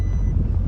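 A fire truck reverses on a farm in late autumn, its backup alarm holding one steady high beep over a heavy low engine rumble, close and fairly loud.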